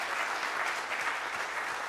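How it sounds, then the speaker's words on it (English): Steady, even applause from a conference audience at the International VR Photography Association gathering in Vienna, 2017, with continuous clapping and no voices over it. "So let's give them a round of applause, because I really appreciate being here."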